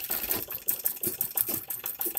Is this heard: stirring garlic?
no